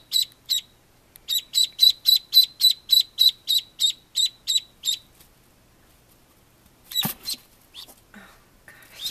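A baby duck peeps in a quick, evenly spaced run of about a dozen loud, close, high calls, falls silent, then gives a brief scuffling burst near the end.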